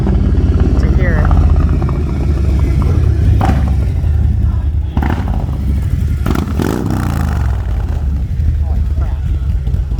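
A Harley motorcycle engine that has just had work done runs loud and close, with throttle surges and revving, while a person talks over it.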